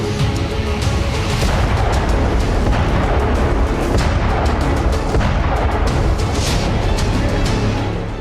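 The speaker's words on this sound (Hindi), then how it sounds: "हॉवित्जर जैसी तोपें नागोर्नो कराबाख में बारूदी बवंडर ला रही हैं" Dense, continuous rumbling and booming of howitzer artillery fire in the Nagorno-Karabakh war, loud and sustained with repeated blasts blending into a roar.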